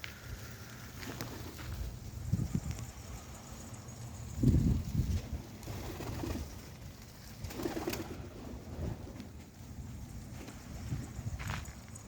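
Pigeons coo softly amid bursts of flapping wings and scuffling as they fly out of a coop, with the flutters louder around the middle and again near the end.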